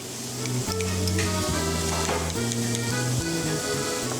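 A steak sizzles in a pan with butter in a Qatar steakhouse, a loud steady frying hiss over a low humming background with faint scrapes.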